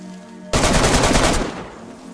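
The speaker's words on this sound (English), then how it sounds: "Where is this guy shooting now?" Automatic gunfire in the DayZ video game, a single sustained burst of rapid shots lasting about a second, loud and close, with no talking.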